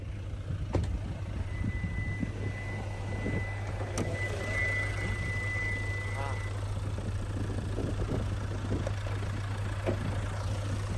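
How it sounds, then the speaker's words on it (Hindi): A Hyundai Tucson 2022 with its bonnet open, its 2.0-litre inline four-cylinder common-rail Smartstream diesel idling with a steady low hum and a clatter beneath it, heard close up with faint clicks. "तो ये है 2000 CC inline 4 cylinder common rail direct injection smart stream are D4 HD diesel engine"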